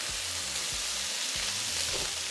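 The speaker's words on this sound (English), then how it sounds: "we're going to be adding some more soy sauce, hoisin sauce, along with a little sesame oil" Steak fried rice sizzles steadily in a hot pan with soy sauce, hoisin sauce and sesame oil, while a utensil scrapes through it in slow repeated strokes under a loud, even frying hiss.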